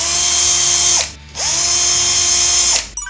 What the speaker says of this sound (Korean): 나사 두 개씩만 풀어주면 됩니다.